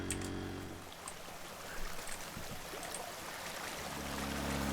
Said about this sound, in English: So a little bit of water is escaping there.